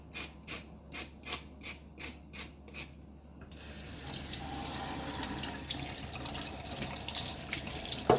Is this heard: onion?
no